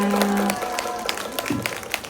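Warm applause from an audience at a Buddhist temple dharma talk, steady at first with a brief sustained tone early on, then settling into scattered claps that continue at moderate loudness.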